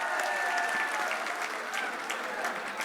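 A crowd at a political rally in Vijaynagar, Masuda claps loudly to welcome Sachin Pilot, a dense, steady burst of applause lasting throughout.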